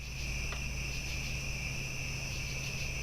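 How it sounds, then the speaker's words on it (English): Crickets chirp in a steady, continuous trill outside an open window in Ontario County, a dense high insect chorus that holds at an even level throughout with no talk. "listen to those crickets"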